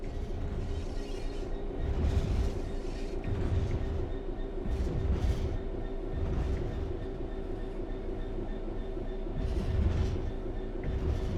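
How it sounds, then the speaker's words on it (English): Steady rail rumble and rolling wheel noise from a train in the Train Sim World 4 video game, continuous and moderately loud with faint rhythmic track clatter swelling now and then, no talk. "There's some weird track sound effects."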